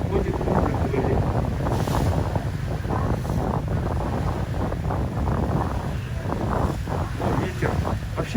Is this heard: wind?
yes